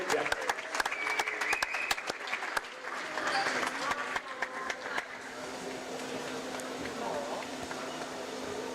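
A crowd applauds senior players at a women's college basketball game, loud and sustained throughout with steady clapping. A single tone hums through the second half.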